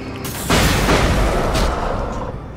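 A flashbang thrown in the horror game Alan Wake goes off with one loud, close boom that hits sharply and then rolls into a long, rumbling decay with debris-like crackle.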